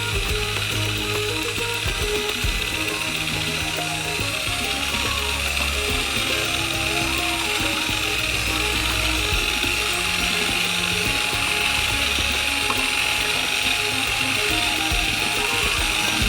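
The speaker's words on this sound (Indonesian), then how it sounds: "Dan tuangkan campuran secara bertahap, sambil mencampurnya dengan mixer." An electric mixer whirs continuously while blending ice cream batter, a loud, steady mechanical buzz with rattling texture that runs for the whole stretch.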